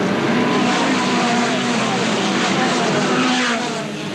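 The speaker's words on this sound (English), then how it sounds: "With 20 cars on this small racetrack, there's action everywhere." Pack of about twenty midget race cars roaring around a small racetrack at a 1982 World of Outlaws event, a dense continuous engine drone close and loud, easing slightly at the end.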